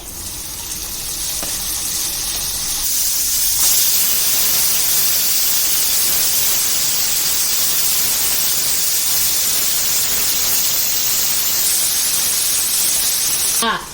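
Onions and tomato fry in a pan for a mutton curry with tamarind leaves, giving a loud, steady, close sizzle that holds without a break for the whole stretch and then stops abruptly.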